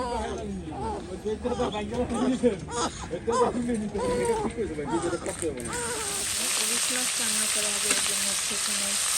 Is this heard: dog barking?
no